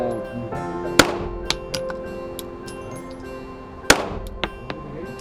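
Shots from a CZ P-10 C pistol at a range ring out as two sharp, loud cracks about three seconds apart, each followed by fainter clicks and small impacts against a steady hum.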